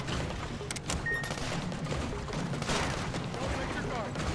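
Rapid gunfire from the platformer video game Sandland, a dense stream of shots and impacts layered over busy game sound effects, steady and continuous throughout.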